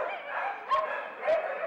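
Dogs bark inside an animal shelter, a dense overlapping chorus of barking with two louder sharp barks rising above the steady din, heard close and continuous with no talking.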